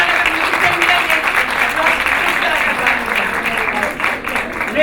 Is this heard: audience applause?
yes